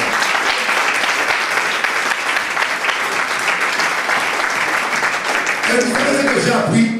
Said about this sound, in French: Applaudissez Jésus le roi.